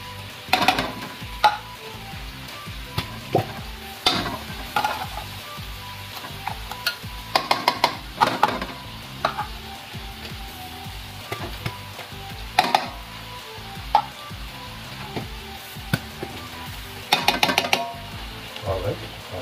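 Corned beef goes into a pan for a spaghetti sauce, giving a low sizzle beneath repeated scraping and clacking of a utensil stirring against the pan in irregular bursts.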